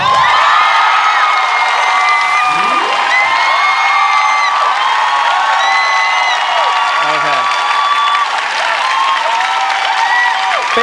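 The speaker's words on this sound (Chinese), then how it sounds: "各位掌声谢谢蔡英文" A studio audience claps and cheers for Tsai Ing-wen on a TV talk show, a loud, steady wall of applause with whoops and shouts running throughout, voices calling out over it.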